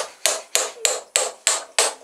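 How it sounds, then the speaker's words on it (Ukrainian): A hammer taps a bushing into place in six sharp, evenly spaced metallic blows about a third of a second apart, close and clear with no talk. "Молоточком."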